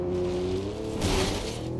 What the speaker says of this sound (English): Nice gradual damage crash here.